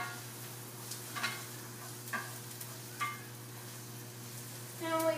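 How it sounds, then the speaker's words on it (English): Onions cooking with chipotle pepper and adobo sauce are stirred in a pan, giving a few soft scraping strokes over a steady low hum, with a faint sizzle and a brief clatter near the end. "So we'll give the onions a stir."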